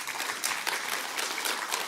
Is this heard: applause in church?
yes